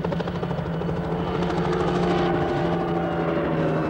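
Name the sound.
helicopters flying overhead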